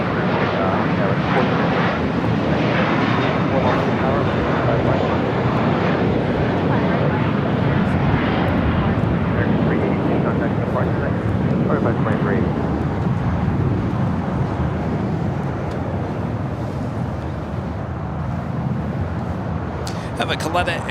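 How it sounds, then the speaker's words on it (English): Loud, sustained roar of an Atlas Air Boeing 747-400 freighter spooling up for takeoff at LAX, a broad rumbling engine wash with wind noise, steady throughout and heard from fairly close. "Have a Coletta Air Queen at 747-400 freighter heading to Cincinnati, now lighting up."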